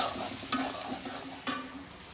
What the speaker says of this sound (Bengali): পেঁয়াজটা একটু কিছুক্ষণ ভাজা ভাজা করে দেবো।